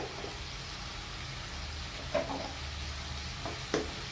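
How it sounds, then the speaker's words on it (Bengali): Spice paste with cumin and water frying in a pan for a prawn malai curry, a steady soft sizzle throughout with a couple of brief louder clinks of a spoon stirring near the end. "এই পানি দিয়ে আমি এই মশলাকে খুব ভালোভাবে কষিয়ে নেব।"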